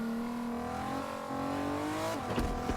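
Car engine in a video game revving steadily with rising pitch, then a shift and rough bumps and thuds near the end, loud and up close.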